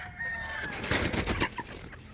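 Boston Black pullets cluck and squawk nearby, with a few sharp calls bunching up in the middle and a faint high whistle-like note early on.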